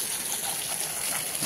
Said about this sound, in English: Mohal Garden Nishat, and of course the artificial waterfalls